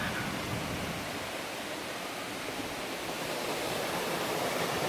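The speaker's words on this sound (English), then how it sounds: "I'm at the waterfall, so it's pretty loud." A waterfall in New Hazelton roars as a steady, loud, broadband rush of falling water, unbroken and close throughout, with no voices over it.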